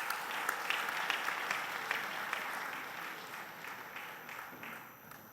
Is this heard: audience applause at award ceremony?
yes